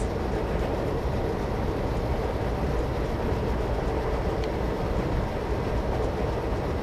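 A train in a train driving video game running steadily downhill along the track at cruising speed, a continuous loud rolling rumble and hiss with faint clickety-clack, unbroken and with no voices.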